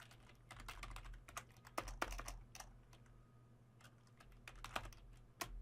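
Rapid, uneven keystrokes on a computer keyboard while HTML is typed, a steady stream of sharp clicks in bursts with short pauses, close and fairly quiet over a low background hum, no talking.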